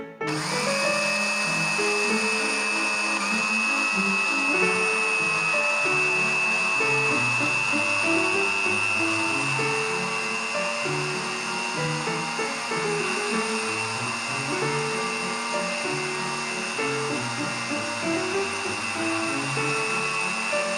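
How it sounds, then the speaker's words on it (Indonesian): An electric blender grinds 250 grams of granulated sugar into powdered sugar, a loud, continuous high motor whine with gritty rattling that holds steady throughout, with no talking. "kita akan memblender gula pasir sebanyak 250 gram"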